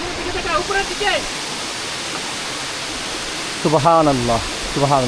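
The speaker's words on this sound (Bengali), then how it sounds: "ঝর্ণার যে কলো কলো ধ্বনি আছে" The Dhuppani waterfall in Rangamati roars as a steady, broad rush of falling water throughout, with a voice speaking over it briefly at the start and again near the end.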